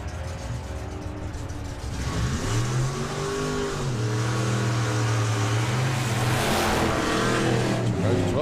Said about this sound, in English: '66 Dodge, beautiful car that.